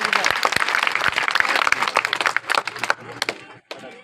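Crowd applause at a groundbreaking ceremony for a BJP office in Bundi, Rajasthan: dense, loud clapping for nearly three seconds, then thinning into scattered claps with some voices mixed in.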